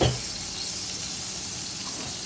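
Onion paste and ginger garlic paste fry together in a pan, giving a steady, soft sizzling hiss that stays even and fairly quiet throughout, with no voices.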